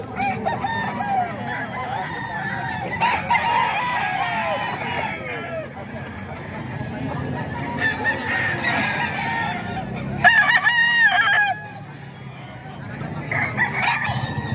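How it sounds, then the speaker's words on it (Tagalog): Roosters crow repeatedly among clucking chickens at a poultry spot in Tondo, the calls close and fairly loud over a busy background, with someone talking in between. "Yan, mga manok to ni Kuya Batang mga ka-idol"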